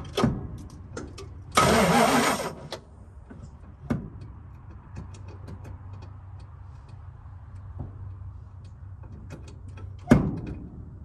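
A 1975 Dodge D200 Crew Cab engine, long parked as garden art, turns over in one brief burst of cranking before falling quiet, followed by a few faint ticks and clicks and a low idle-like hum.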